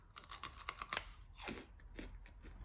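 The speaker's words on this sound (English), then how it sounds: "It's very crunchy," Frozen, freeze-dried strawberries being bitten and chewed close up, giving a quick series of sharp, dry crunches and crackles that continue in softer bursts, with no talking.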